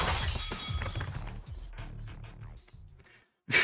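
Window glass shatters loudly in the visual novel game Fate/Stay Night, a sharp crash followed by tinkling, scattering fragments that fade out before a brief silence and a sudden new burst.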